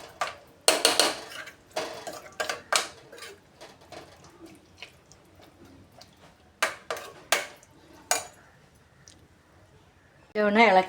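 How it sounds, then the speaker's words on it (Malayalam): A spoon scrapes and clanks repeatedly against a metal pressure cooker while stirring Kerala-style mutton curry, sharp irregular knocks up close with quieter gaps, ending in a louder metallic rattle. "അതൊന്ന് നല്ലപോലെ ഇളക്കിയതിന് ശേഷം"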